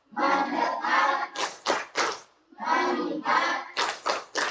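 A school class claps hands together in a rhythmic clapping game, with bursts of sustained group clapping and chanting voices followed by single sharp in-unison claps, the pattern repeated twice.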